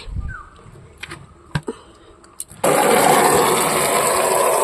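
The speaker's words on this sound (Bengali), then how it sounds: "ওদিকে জল ভরতে দিয়েছি, জল পড়ে যাচ্ছে।" Water overflowing a container left filling outdoors at a garden while planting, starting after a few scattered knocks and clatters as a sudden loud, steady rushing splash that carries on to the end, close and dominant.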